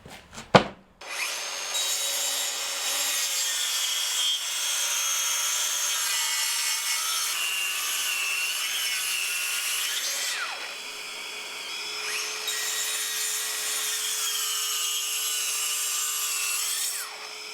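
A power saw cuts 18mm MDF scraps to size in a workshop, a steady high whining cut running for many seconds with brief dips, close and loud, no talk.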